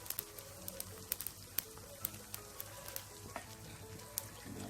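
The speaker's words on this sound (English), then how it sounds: "The vegetable done saute up" Tomato, sweet pepper and onion sautéing in a pan, a quiet low sizzle punctuated by regular sharp spatula taps and scrapes, no voices.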